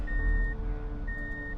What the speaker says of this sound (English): That beeping is my four-wheel drive.